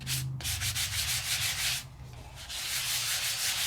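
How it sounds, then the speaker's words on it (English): Light sanding of an embossed matboard, rapid rhythmic scratchy back-and-forth strokes, close and steady, with one brief pause partway through. "I'm gonna do a light sand"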